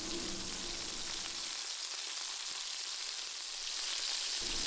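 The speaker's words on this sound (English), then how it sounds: "we're going to give them a flip and let them go for about 2 to 3 minutes on the second side" Lamb burger patties fry in a pan with a constant, fairly loud hiss of sizzling fat that holds steady from start to finish, without voices.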